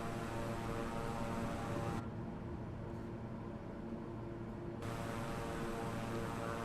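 Airplane engine in Microsoft Flight Simulator 2020 while flying through Tropical Storm Delta, a steady dense broadband roar that thins briefly in the middle and then returns at full strength, with no talk.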